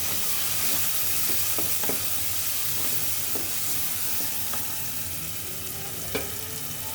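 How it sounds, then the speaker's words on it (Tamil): Tomatoes sauté in a hot pan with a dense, continuous sizzle, while occasional spoon scrapes and taps on the pan sound close by, with no one talking. "தக்காளி நல்லா வதங்கணும்."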